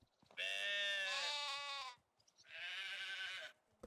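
Sheep in the farming game Medieval Dynasty bleat twice, a long wavering call then a shorter one, clear and close against a quiet background.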